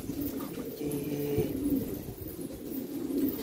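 Pigeons released for flight coo softly in low, rolling calls over a steady outdoor background, several birds overlapping at moderate distance.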